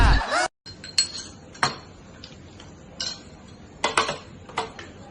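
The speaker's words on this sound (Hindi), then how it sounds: "बर्तन धोने जा रहा हूँ।" Dishes and cutlery clink in scattered, sharp metallic taps at irregular intervals during dishwashing, close and fairly crisp, with brief quiet gaps between the clatters.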